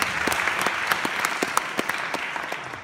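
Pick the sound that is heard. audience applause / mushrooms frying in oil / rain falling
audience applause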